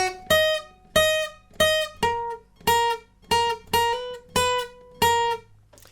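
Guitar with a capo plays the verse riff of a song, picked in a repeating pattern of about a dozen bright, ringing plucked notes at a steady pace, close and alone without speech.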